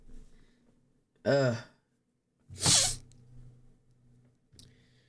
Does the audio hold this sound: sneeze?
yes